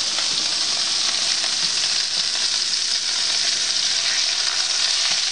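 Lamb patties sizzle and fry steadily in a hot pan, a dense continuous crackle with no pauses, close and loud throughout.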